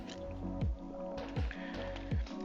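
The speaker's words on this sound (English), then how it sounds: "Had to get a drink of water." Three close, wet gulps of water being swallowed at an even pace, each with a soft squishy throat sound, during a break from a 2023 Nissan Z track build in the desert.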